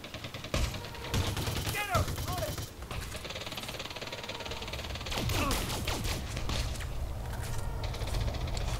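Dense automatic weapon fire in Elite Dangerous Odyssey, continuous rattling bursts with thuds and whizzing effects over a busy game soundscape, loud and sustained throughout.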